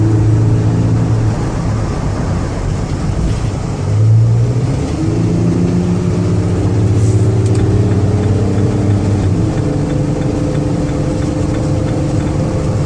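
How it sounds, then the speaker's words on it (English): 2008 Chevrolet Uplander wheelchair van with 133k miles at highway speed, a steady low engine drone with gear shifts audible as pitch changes, close and continuous under road noise with no talking. "so you can hear the engine run, hear the transmission shift"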